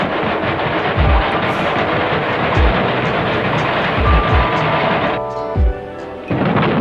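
Foley effect of iron pieces moved with friction to imitate a running train, producing a loud, continuous grinding rumble with repeated low thumps, a brief tonal screech near the end, and no talking.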